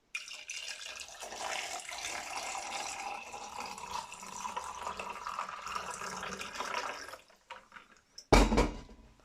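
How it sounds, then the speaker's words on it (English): Water poured from a container into a glass of mashed lime with sugar syrup and ice cubes, a steady close liquid splashing and gurgling lasting several seconds, then a brief louder clink or splash at the end. "Water."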